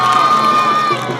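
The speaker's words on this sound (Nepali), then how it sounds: "सम्मानित सबैको लागि एकचोटि जोरदार तालीले सम्मान गरौँ।" A school anniversary audience cheering and shouting, with children's high voices in a loud, dense crowd roar across a brief moment.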